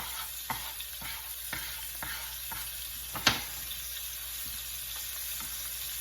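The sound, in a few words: salted cod frying in a pan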